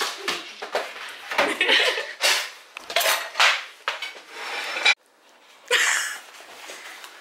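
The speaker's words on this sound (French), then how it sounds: "T'es en train de faire la vaisselle." Dishes, pots and cutlery clatter and clink in a sink during dishwashing, with bursts of scraping and knocking, a brief pause, then more rattling, all close by.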